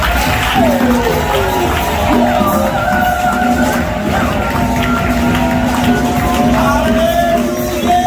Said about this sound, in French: Je veux que nous acclamons. Très très fort.